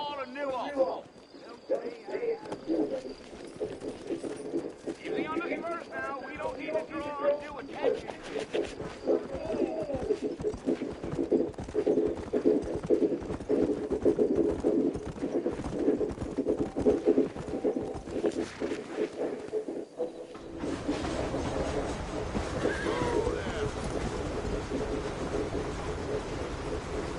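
Sturdy horses hitched for a ride out of New Ulm clip-clop in a steady rhythm through most of the stretch, with a continuous rumbling background and people talking over it; no distinct neigh stands out.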